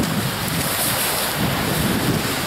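Wind blows hard and steadily across Kadırga Cove on the coast of Çanakkale, buffeting the microphone with a loud, continuous rushing roar and no voices.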